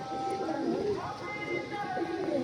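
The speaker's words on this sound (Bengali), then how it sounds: "এই যে আমার পাঞ্জাবি মালবাহী পায়রা" Punjabi Malwai pigeons give soft, repeated low cooing calls, close and steady over a constant background murmur of voices.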